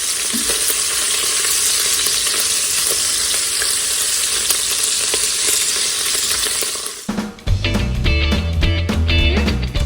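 Pancetta fries in a pressure cooker with a steady, bright sizzle for about seven seconds. The frying then breaks off into a different, tonal sound with low thumps near the end.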